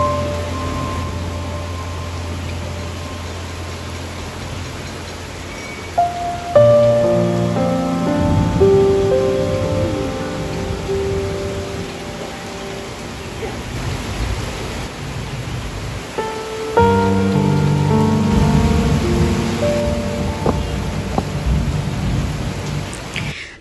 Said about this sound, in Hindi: बारिश हो रही थी, पानी आ रहा था